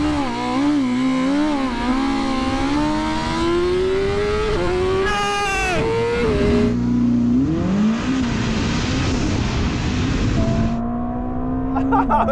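A BMW M 1000 RR superbike and a 1000hp Ferrari SF90 Stradale launch side by side in a drag race, loud engines climbing through rising revs and gear shifts with a voice shouting over the roar.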